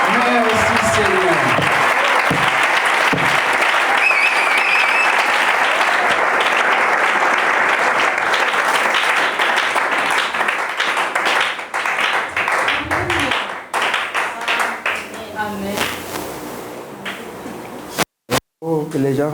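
A church congregation claps loudly and continuously for most of the stretch before the applause thins out and breaks off, with voices and some cheering mixed in.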